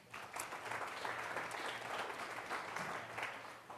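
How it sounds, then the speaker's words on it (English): Audience applause at a commercial real estate seminar, several seconds of sustained clapping from a modest crowd, fairly faint and even, with no voices over it. "So I would like to give him a round of applause if you all don't mind."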